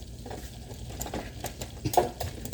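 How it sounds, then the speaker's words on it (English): Flour is stirred in a mixing bowl in a home kitchen, soft, uneven scraping and brushing strokes at close range, quiet overall with one slightly louder scrape near the end. "stir, stir, stir, stir."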